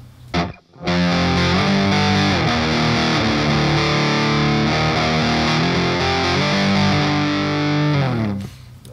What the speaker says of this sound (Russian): теперь у нас будет Marshall, попробуем, да, на первом кабинете, и попробуем включить педаль